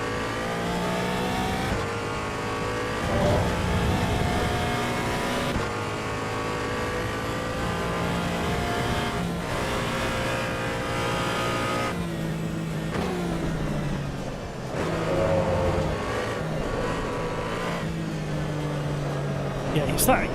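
A Porsche race car in Assetto Corsa EVO screams through the gears, its engine rising and falling as it accelerates, downshifts and brakes for corners. The engine stays loud and close the whole time.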